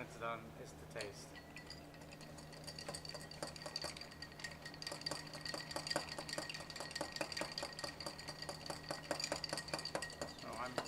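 A Dickel and Dew cocktail is stirred with a bar spoon against ice in a glass, giving a steady run of light clinks and ice rattles, close and fairly quiet, that builds in pace over several seconds.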